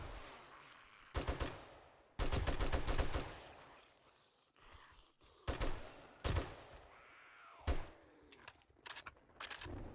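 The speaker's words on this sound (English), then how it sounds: "When they're lined up like that, you just shoot one and it goes right through, it hits the other one, so it uses less bullets." Rapid bursts of gunfire in the survival game 7 Days to Die, loud repeated volleys and single shots aimed at zombies, separated by short quieter gaps with thuds and game noise.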